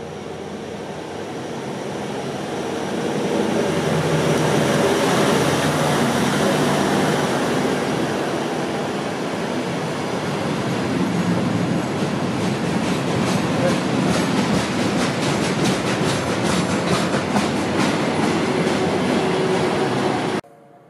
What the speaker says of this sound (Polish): Pociąg, być może pociąg ewakuacyjny na Litwę jedzie w tej chwili.